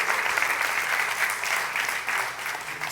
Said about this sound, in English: let's give a round of applause for the student leaders who created that logo.